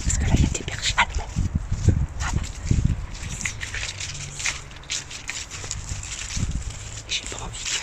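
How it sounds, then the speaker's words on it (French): German shepherd dogs at a veterinary clinic whimpering and yipping in short, uneven bursts, with occasional barks and footsteps, while people talk nearby. "Parce que là il y a des bergers allemands."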